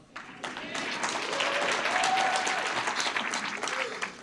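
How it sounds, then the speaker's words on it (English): Audience applause fills a hall at the 2019 NHRA North Central Division awards ceremony after a Sportsman Mechanic of the Year nominee is named, a steady wash of clapping that swells quickly and holds at moderate volume. "You can applaud."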